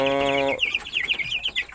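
Young chickens in a brooding box kept without a heat lamp give a burst of calling, a held harmonic cry followed by a quick series of high, sharp peeps, close and fairly loud.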